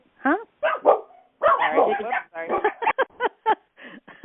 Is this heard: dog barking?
yes